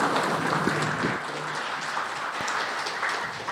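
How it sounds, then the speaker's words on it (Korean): An audience claps together after a lecture on understanding the Buddha given by a senior monk: a dense, steady wash of many hands applauding at even strength for the whole stretch, with no talk over it. "다시 한번 보관 큰 스님께 감사의 큰 박수 부탁드리겠습니다."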